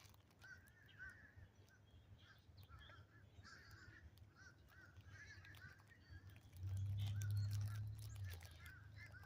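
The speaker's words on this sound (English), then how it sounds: "Hear all the crows? They've been pretty active," Crows caw repeatedly outdoors, their harsh calls scattered and fairly distant over a low steady rumble that swells toward the end, with no one speaking.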